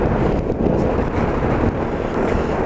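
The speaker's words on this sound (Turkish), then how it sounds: "Çok rüzgar. Sert rüzgar. Sağdan soldan vuran rüzgar." Strong gusty crosswind roars loud and steady while riding a motorcycle at night in a storm near the sea, buffeting continuously with no voices.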